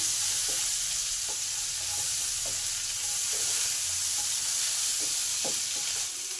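Cauliflower with salt and turmeric sizzles and crackles steadily in a hot pan, a constant frying hiss with occasional soft pops and stirring taps.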